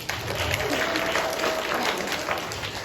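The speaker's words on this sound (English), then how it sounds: "Can we get a round of applause?" A short round of applause from middle school students during a presentation, a brief, moderately quiet patter of clapping.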